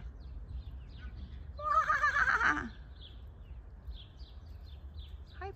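A single horse whinnies once outdoors in Weeze, Germany, a loud wavering neigh lasting about a second, with faint birdsong chirping around it.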